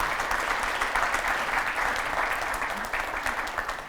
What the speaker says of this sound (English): And all of that applause is for him